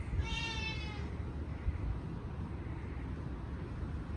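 A Jibo robot gives one synthetic cat-like meow lasting about a second, bright and harmonic, followed by low background rumble and handling noise, no talking.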